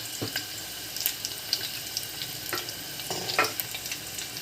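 Garlic with curry leaves frying in a pan as it browns, a soft, steady sizzle broken by scattered crackles and spatters, close by with no voices.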